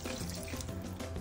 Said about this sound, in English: You can also add water